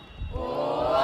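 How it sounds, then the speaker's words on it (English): Spectators at a quidditch match in Sagene swell into a rising chant, a blended mass of voices building steadily in volume across the short stretch. "here we can see the chant starting from the crowd"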